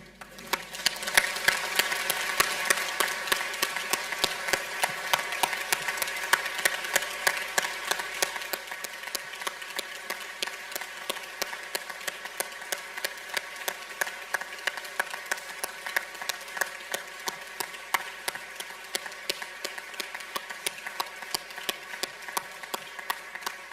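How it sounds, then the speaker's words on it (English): A graduation hall audience at Newcastle University gives a standing round of applause, loud and dense at first, then thinning into steadier, sparser clapping over about twenty seconds, with no talking. "stand to offer everyone a round of applause"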